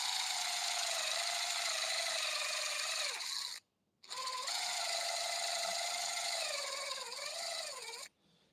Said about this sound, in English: I'm going to slow my drill down to the slowest setting I have.